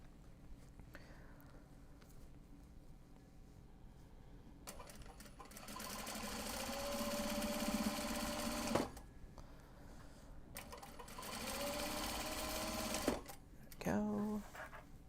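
A sewing machine stitches along the edge of a Japanese fabric box bag in two long, close runs of rapid whirring, separated by pauses with soft handling noises and a brief final burst.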